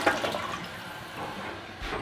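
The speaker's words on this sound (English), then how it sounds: "So we're about to do our first flush." A newly installed toilet flushing for the first time during a house renovation, a soft rushing and gurgling of water at close range, fairly quiet and continuous, with a brief louder surge at the end.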